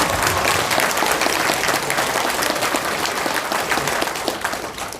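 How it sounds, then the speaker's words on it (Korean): An audience at a political party debate forum claps in a dense, sustained burst of applause that fades slightly toward the end, with no voices over it. "여러분들의 박수가 시원치 않네요"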